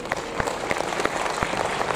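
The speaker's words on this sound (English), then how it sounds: "Round of applause again, guys." An audience at a data analytics and content marketing talk breaks into applause, a steady moderate patter of many hands clapping at once, with a few sharper individual claps standing out.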